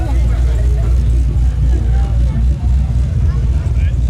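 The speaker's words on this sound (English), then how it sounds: "As an SS pulls in, Commodore." A Holden Commodore SS pulls in at an outdoor street car show, its engine a steady loud low rumble close by throughout, with people talking over it.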